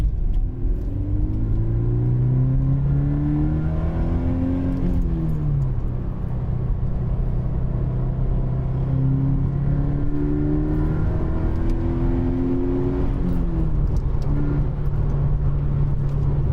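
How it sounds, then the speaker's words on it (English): A Toyota GT86 fitted with an HKS Premium Suction intake revs twice, each rise climbing smoothly to a deep, loud drone before falling back to a rumbling idle, with no voices over it. "it's got a little bit more of a deeper sound to it for sure"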